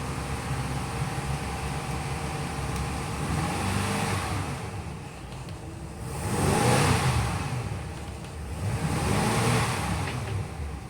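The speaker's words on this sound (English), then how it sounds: "Engine runs really nicely." Inboard engine of a Maxum 2700 SCR boat running steadily, then revved twice with swelling roars that fall back to a rumbling idle, close and loud with no talk.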